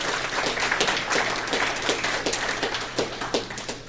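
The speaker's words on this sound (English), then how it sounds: "Let's give them a round of applause." An audience at a dinner event applauds steadily for a few seconds, a dense patter of claps over a low room hum.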